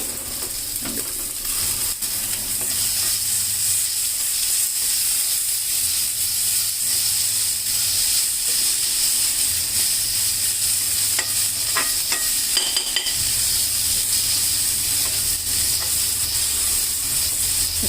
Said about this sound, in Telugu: సిమ్లో పెట్టుకొని కాసేపు ఒక 2 మినిట్స్ అట్లా ఫ్రై చేసుకుంటే చూడండి